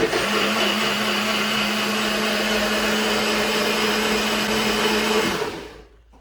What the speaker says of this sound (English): put the top on our little blender. This is a little Lowe's blender.